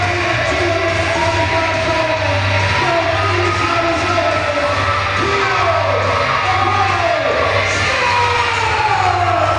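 A wrestling crowd at Union City roars and yells for the entrance of masked wrestler Apollo Star, steady loud cheering with whoops and a droning horn-like tone underneath, continuous throughout.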